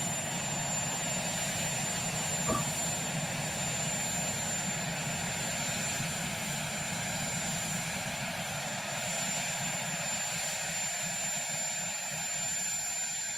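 A presidential helicopter returning to the White House from Mar-a-Lago gives off a steady, loud engine and rotor drone that holds at an even level throughout, with no talk.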